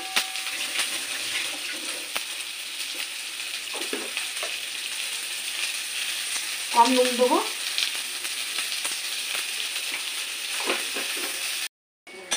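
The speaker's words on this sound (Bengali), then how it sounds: "পেঁয়াজ আর ক্যাপসিকামগুলো আমার ভালো রকম ভাজা গেছে" Onion petals and capsicum fry in a pan for chilli baby corn, giving a steady close sizzle with a few stirring scrapes and a brief burst of clatter midway; a voice speaks briefly.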